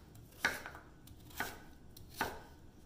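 A knife cuts tofu or taro into cubes on a board. Three crisp, evenly spaced chops sound close and fairly quiet, with near silence between them.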